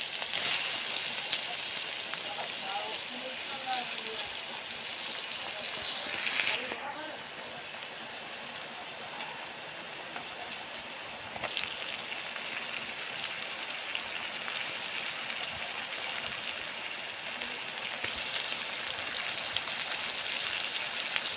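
Ginger, garlic, onion and chicken frying in hot oil, a steady sizzle and crackle that runs continuously, with a brief louder hiss flaring when ingredients hit the pan.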